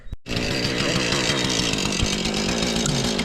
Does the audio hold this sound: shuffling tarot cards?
no